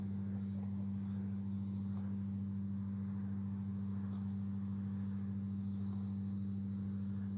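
An E-flite Carbon Z T-28 RC warbird drones steadily overhead as it comes in to land, a constant low motor hum with faint wind in the background and no talk.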